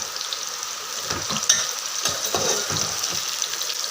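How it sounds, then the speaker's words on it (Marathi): Sliced bitter gourd fries in hot oil with a steady crackling sizzle while a spatula stirs it through, scraping and clinking against the pan in a few close strokes. "बघा, हे कारले तळले आहेत. तर यांना आपण थोडं एकदा हलवून बघू."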